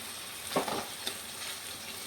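Fish frying in a pan on its second side, giving a steady sizzle with a short louder burst of stirring or turning near the start, all close by with no talk.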